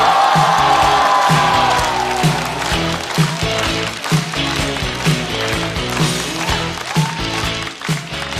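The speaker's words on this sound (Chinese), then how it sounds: "掌声欢迎小雪" Applause and cheering from a comedy club audience greeting a stand-up comedian, a dense burst of clapping that starts loud and thins out into scattered claps and whoops.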